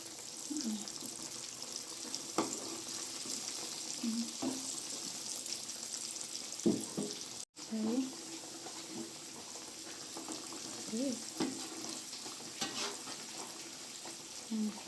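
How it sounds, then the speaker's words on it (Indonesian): Chicken pieces frying in hot oil for Kentucky-style fried chicken, a steady soft sizzle with occasional clinks and stirring noises, fairly quiet and continuous. "ini kita goreng, udah kita balik ya teman-teman, kita tunggu matang"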